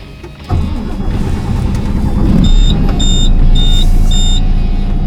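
A KAMAZ 54901 tractor truck's engine cranks and catches, then settles into a loud, close, rumbling idle, while a string of short, evenly spaced electronic beeps chimes over it near the end.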